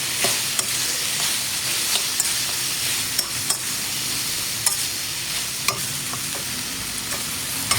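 Red chili, basil and fried catfish stir-fried in a hot wok for a spicy Thai catfish dish, with a steady loud sizzle broken by repeated sharp scrapes and clicks of the spatula, no talking.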